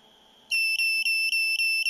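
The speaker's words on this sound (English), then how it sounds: "The beep tells us it is ready" A rotary table controller signals ready with a series of loud, high electronic beeps, five pulses in a steady rhythm with brief gaps, sounding close after a quiet start.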